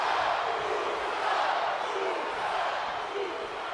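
An arena crowd in the WWE 2K25 wrestling game roars continuously, a dense, sustained wash of cheering at steady loudness.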